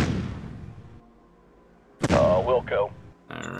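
Ranged attack fire in the strategy game Shadow Empire: a sharp gunfire-like burst with a brief rumbling tail and a short echo afterward, heard alone after a quiet lull.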